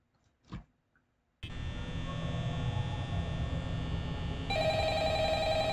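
In the Five Nights at Freddy's video game, a brief noise gives way to a steady electronic drone and low hum, then a telephone ring tone starts up near the end.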